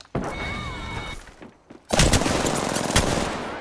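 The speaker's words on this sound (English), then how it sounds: "Shots fired and they're hitting me." Video game gunfire as Loba in an online shooter: a burst of rapid shots early on, a short lull, then dense, loud continuous firing and impacts that fill the rest, close and without speech.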